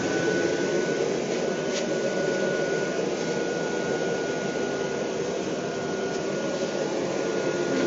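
A forge air blower runs with its intake open, a constant loud whooshing roar of rushing air that holds steady throughout, with no voices over it.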